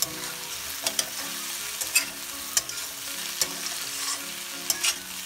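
Tomatoes are being stirred into a dry capsicum and potato sabzi in a pan, a steady soft sizzle broken by repeated sharp spoon scrapes and clicks at an uneven rhythm.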